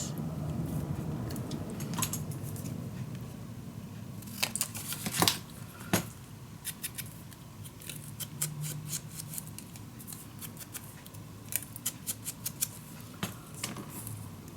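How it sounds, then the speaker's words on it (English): Scissors snip through a strip of scrapbook paper at close range, with scattered sharp cuts and small paper rustles and handling clicks over a steady low room hum, no talk. "Alright, cut this the same size."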